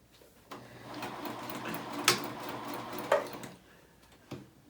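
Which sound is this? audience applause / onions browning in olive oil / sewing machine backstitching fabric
sewing machine backstitching fabric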